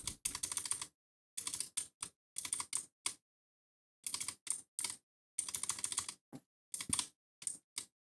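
Quick bursts of computer keyboard typing entering a code in a game, clattering clusters of keystrokes separated by brief pauses, close and crisp with no voices.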